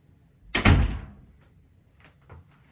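An interior kitchen door swings and bumps shut with a single solid thud, followed by a few faint knocks as it settles.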